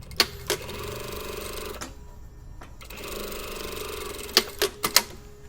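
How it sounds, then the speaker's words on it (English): Close sewing machine stitching a bomber jacket sleeve rib seam, running in two steady bursts separated by a quiet pause, with sharp clicks and clunks of handling at the start and end. "before we sew the rib onto the sleeve, we just have to seam the rib together"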